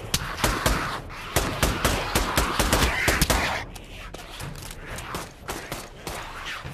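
Pistol fire in the VR shooter Pavlov, rapid sharp cracks in quick bursts with a steady staccato rhythm, loud and close, briefly pausing before another run of shots.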